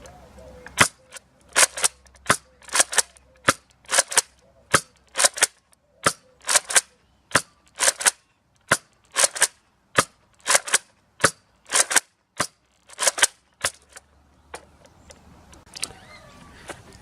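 Nerf Elite Retaliator blaster firing foam darts indoors, some shots with the barrel attached and some without: about two dozen sharp, loud pops with short pauses between them, each one alone.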